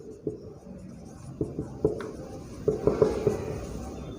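A teacher writes on a classroom board, producing a run of short, close scratches and taps that grow denser and louder toward the end.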